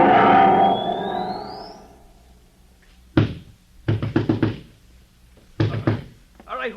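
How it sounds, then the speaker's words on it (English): Heavy pounding on a door in an old sci-fi radio drama, three separate bursts of loud, rapid thuds with pauses between them, after a rising electronic whine fades out. "He'll break down the door in a minute."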